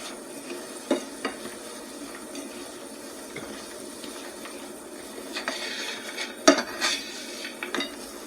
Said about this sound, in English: I like to go around and kind of scrape off the crystallize from the edge